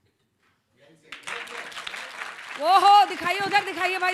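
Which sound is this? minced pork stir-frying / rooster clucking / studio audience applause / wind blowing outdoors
studio audience applause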